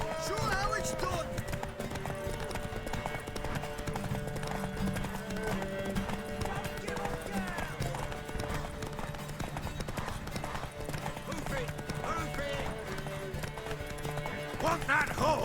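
Horse hooves clip-clop and a horse whinnies in The Witcher 3: Wild Hunt, rhythmic hoofbeats under game music and character dialogue at a modest level throughout.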